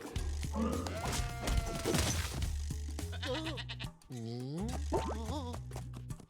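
Goat bleats ring out in the video game Spyro 2: Ripto's Rage, several wavering cries over looping game music with thumps and crash effects.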